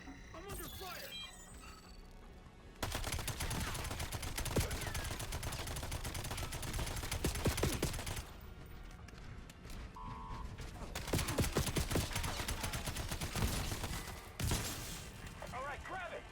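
Gunfire in the video game Call of Duty: Black Ops 7, with bursts of rapid automatic fire and sharp shots recurring over several seconds, mixed with in-game voices talking and battle noise.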